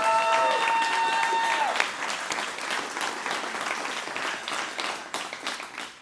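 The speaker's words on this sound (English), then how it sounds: "So give yourselves a round of applause." Audience applause at a live show, a dense burst of clapping that starts under a speaking voice and carries on alone, thinning slightly toward the end.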